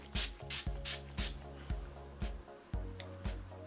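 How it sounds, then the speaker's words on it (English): Hair texture spray from an Eleven Australia can is pumped in a run of about eight short, crisp hissing bursts, close and fairly quiet, with soft clicks of the nozzle between each spray. "let me just spray that"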